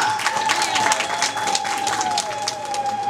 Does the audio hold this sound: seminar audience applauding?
yes